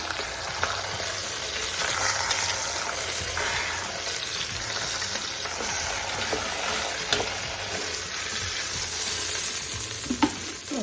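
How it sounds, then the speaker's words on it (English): Onions soften in oil left from browning a roast for a Southern-style po' boy, a continuous close sizzle with scattered pops and the scrape of stirring. "in the same oil, we're gonna go ahead and soften up our onions"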